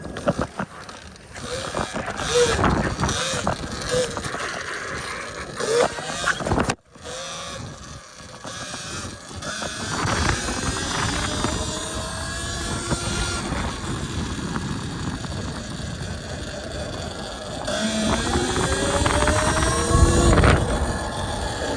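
Electric motor whine of a Talaria XXX electric dirt bike ripping through city streets, a continuous rising and falling drone close up with wind rush and a brief cutout midway, building louder toward the end.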